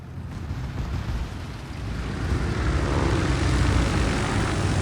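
Warplanes from a Kaga aircraft carrier in the naval game World of Warships drone steadily, a broad propeller-engine roar that swells louder through the second half, with no talk over it.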